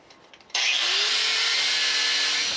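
A power saw bites into metal round stock, cutting off a piece meant to clamp onto a winch shaft; after a brief quiet lead-in, a loud, steady, close grinding whine starts abruptly and runs unbroken to the end.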